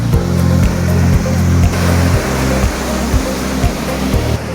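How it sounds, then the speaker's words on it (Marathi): A small waterfall in the Sahyadri hills at Pawankhind gives off a steady, close rush of falling water that stays loud throughout, with no voices. "मिनी धबधबा"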